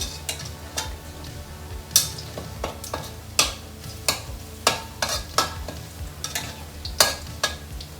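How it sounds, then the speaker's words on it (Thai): Garlic and shallots frying in a wok until golden for a Thai southern prawn stir-fry, a constant sizzle punctuated by sharp, regular scraping and clinking of a spatula against the pan, close and clear, with no speech. "นี่เราจะเจียวให้มันเหลืองๆนะคะ"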